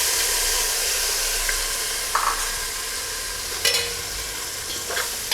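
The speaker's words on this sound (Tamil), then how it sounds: "கொழுமிச்சம்பழம் ஜூஸ் எடுத்து இதில் ஊற்றிக்கலாங்க" Steady sizzling hiss as citron juice is poured into a hot frying pan, with a few scraping stirs and clinks, continuous and fairly close, no voices.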